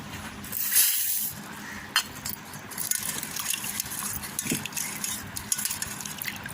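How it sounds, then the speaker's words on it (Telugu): Lentils are washed in a bowl with water, with close, intermittent sloshing, swirling and light clinks of the grains and bowl, and no talking. "ఇప్పుడు ముందుగా పప్పును కడిగి పెట్టేసుకుందాం."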